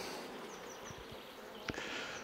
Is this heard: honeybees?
yes